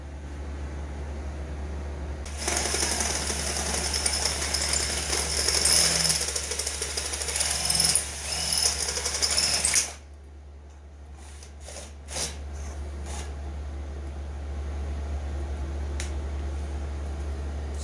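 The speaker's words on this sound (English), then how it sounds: "I'm going to drill them out bigger, or drill them completely off" A power drill grinds loudly and continuously for several seconds while drilling out welded nuts on a Kawasaki streetfighter motorcycle, then stops, followed by a few sharp metallic clicks and knocks.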